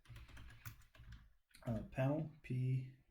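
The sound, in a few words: typing on a computer keyboard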